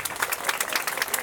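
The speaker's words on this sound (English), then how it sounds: "We applaud him for his skill" Audience applause at a village centenary celebration, brisk, dense clapping from a crowd, steady and moderately close for a brief moment.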